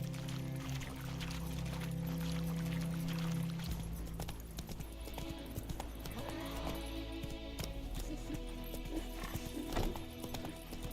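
In The Witcher 3, a horse gallops with rapid, rhythmic hoof clatter throughout, joined by a whinny and game sounds, fairly faint but continuous.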